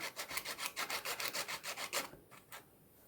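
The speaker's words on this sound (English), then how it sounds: "So I'm going to rub on my sandpaper." An ink pad in Flirty Flamingo pink rubbed back and forth on sandpaper for card making, making a quick run of about a dozen close, even rasping strokes that slow to a couple of final scrapes.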